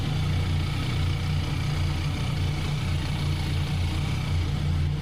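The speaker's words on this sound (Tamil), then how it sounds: "அண்ட் இப்போ இன்ஜின் சவுண்டு கேட்டுருவோம்." A 2026 Benelli TRK 502X adventure motorcycle's twin-cylinder engine idles close up, a steady low throbbing rumble with an even pulse and no voices over it.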